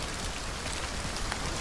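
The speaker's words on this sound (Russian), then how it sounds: "Дождь, конечно, не радует" Steady, fairly faint rain hiss in the video game Hunt: Showdown, an even wash of patter with no other distinct sounds.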